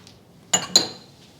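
Two quick clinks of a utensil against a bowl while scone batter is stirred, close and fairly quiet, with a faint ring after each and near-silence around them.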